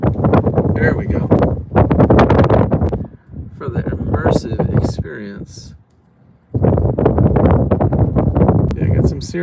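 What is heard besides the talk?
strong wind gusts during Florida storm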